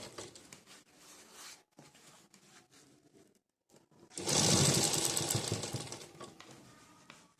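A sewing machine runs in a rapid, steady whirring burst as it stitches a saree border onto the round back neck of a blouse, with quieter handling and fabric sounds beforehand.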